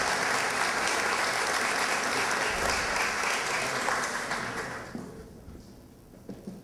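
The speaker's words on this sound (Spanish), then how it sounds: "Las palmas para el señor Augusto Bertel Montori." Applause at a formal municipal ceremony in Miraflores honoring an award recipient, a dense, sustained clapping of a seated audience that fades out after about five seconds, leaving a few scattered claps and room noise.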